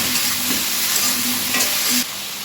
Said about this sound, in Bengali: খুব ভালোভাবে কপিটাকে ভেজে নিতে হবে।